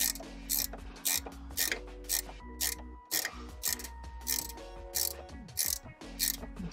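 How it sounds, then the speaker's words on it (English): A 13 mm ratchet spanner works strut bolts loose on a BMW E28 M5's rear suspension, giving repeated rapid clicking bursts in an irregular rhythm, close and fairly quiet, with short pauses between strokes. "I've got a 13 mil ratchet spanner"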